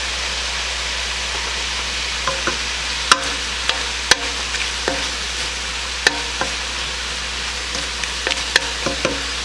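Aromatics sautéing in a pan for homemade bean soup, a steady hiss under a low hum, punctuated by sharp spoon knocks and scrapes at irregular intervals.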